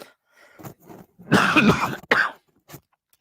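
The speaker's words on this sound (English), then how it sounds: "I've got a little cough." A few short coughing bursts from someone close by, a couple of quick throat-clearing sounds leading into two louder coughs, then a faint final one.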